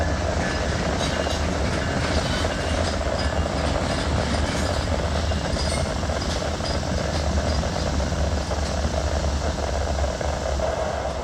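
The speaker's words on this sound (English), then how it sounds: "the shop switcher is seen, moving east as the power for Q368 is pulling ahead after just arriving onto the receiving" Locomotives move through a rail yard while a shop switcher heads east and the power for freight train Q368 pulls ahead onto the receiving yard. A loud, continuous rumble of engines and rolling rail noise holds steady throughout.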